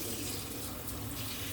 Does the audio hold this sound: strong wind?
no